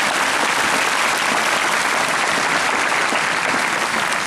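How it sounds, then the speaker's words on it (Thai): Dense, loud applause from a large crowd at a Thai thank-you event honoring a guest, a continuous wash of many hands clapping without pause, steady and close throughout. "ร่วมปรบมือดัง ๆ"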